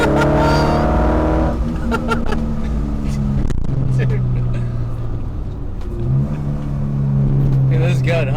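Alfa Romeo Giulia with a Twin Spark engine driving on a road, its engine droning and revving up and down from inside the car, loud and close, with people talking excitedly over it.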